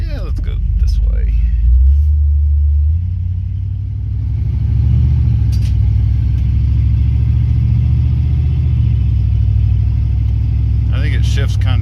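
A Cadillac with fresh junkyard and aftermarket parts drives on a road test, its engine giving a steady low rumble throughout as it accelerates, with a person talking over it.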